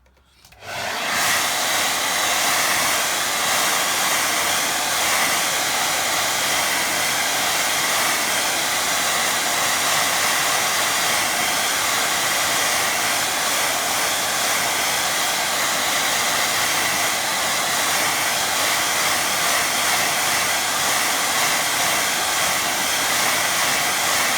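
A hair dryer blows on a wet watercolour painting of blue and purple rocks, its loud, steady whir starting after a brief moment of quiet and running unbroken to the end.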